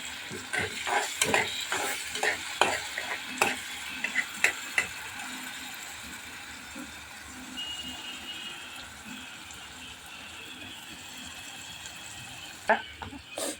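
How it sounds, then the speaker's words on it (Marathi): Green ground masala sautés in hot oil in a pan, with soft crackling and sizzle broken by sharp clicks and scrapes of a spoon stirring, fairly quiet and close. "हा हिरवा मसाला घालणार आहोत तेलामध्ये छान परतवून घ्यायचा"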